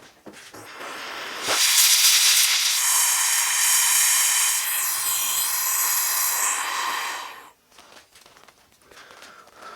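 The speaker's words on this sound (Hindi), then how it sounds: "मैं इसके ऊपर गैस का वेल्ड करूँगा, क्योंकि ये वाला जो चादर है ये पतला है" A gas welding torch hisses steadily against thin sheet metal while building a homemade electric instant water heater, a loud broadband rush holding for several seconds before cutting off, followed by quieter workshop noises.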